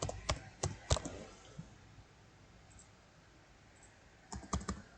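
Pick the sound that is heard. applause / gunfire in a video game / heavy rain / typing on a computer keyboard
typing on a computer keyboard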